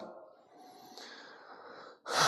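One person breathes heavily during a breathing exercise: a long, breathy, wheezing exhale, then a sharp, loud inhale close to the microphone.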